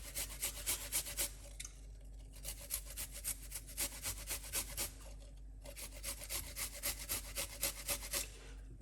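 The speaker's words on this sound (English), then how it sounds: "we wanna grate our ginger." Fresh ginger is grated by hand for beetroot juice, making quiet, rhythmic rasping strokes at about two per second, with two brief pauses between runs.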